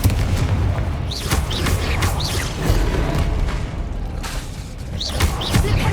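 Confringo fire spell blasts in the video game Hogwarts Legacy, loud continuous battle noise with repeated booming impacts and whooshing spell sounds layered on top throughout.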